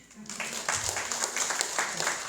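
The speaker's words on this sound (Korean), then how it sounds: "제가 하기는 쑥스럽지만 박수 한번 해주세요." A church congregation claps during a Sunday worship service, moderate and somewhat scattered, with individual claps standing out through the patter.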